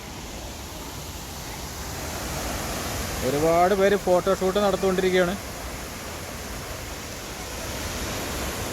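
A waterfall pours in a constant, broad roar from nearby, filling the whole stretch while a person talks briefly partway through.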